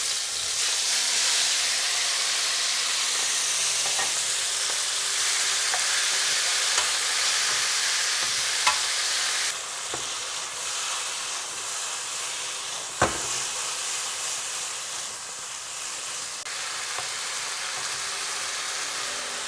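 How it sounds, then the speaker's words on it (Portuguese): Shrimp sauté in hot olive oil in a deep pan with a strong, continuous sizzle. The sizzle drops a little partway through, and a couple of sharp clacks from the pan or utensil cut through it. "Agora vou saltear o camarão"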